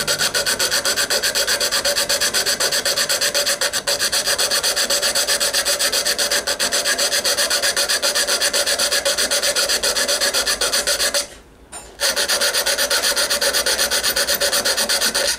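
A needle file rasps over metal armour decoration in a steady, rapid back-and-forth rhythm, close and loud, pausing briefly for about a second near the end before resuming.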